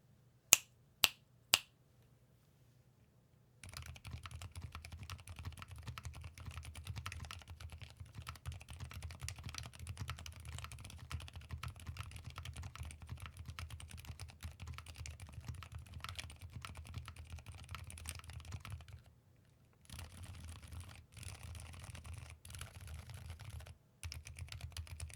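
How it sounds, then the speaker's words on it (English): Steady typing on a Vertex Arc 60, a gasket-mounted 60% keyboard with aluminum plate, GMK keycaps and Invokeys Nightshade silent switches; a few sharp taps open, then a long run of soft, muted keystrokes with brief pauses. "Here's a typing test."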